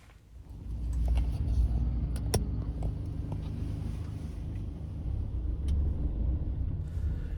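An open-top tour bus pulls away through York city traffic near Bootham Bar, a steady low engine rumble swelling and holding close by, with no voices.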